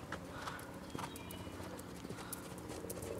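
Horse hooves canter through a riding lesson over a jumping course, a steady three-beat clip-clop rhythm on footing, fairly close and continuous, with no talk over it.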